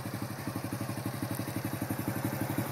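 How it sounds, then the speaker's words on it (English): A motorcycle being ridden, a steady pulsing engine note with a fast regular thump, moderately loud and continuous with no talk. "rides a motorcycle"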